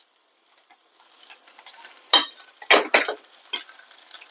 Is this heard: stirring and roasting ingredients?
yes